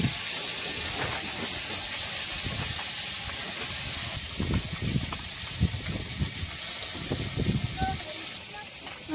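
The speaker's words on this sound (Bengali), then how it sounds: "ভাত ফুটে উঠে পড়ে যাবে না তো।" Rice boils in a pot with a continuous steaming hiss, broken by bubbling bursts, while voices talk faintly nearby.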